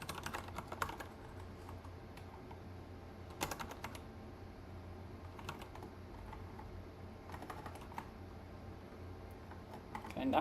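Typing on a computer keyboard during a coding session, with steady clusters of close key clicks and a few sharper bursts of keystrokes over about ten seconds, with light background noise.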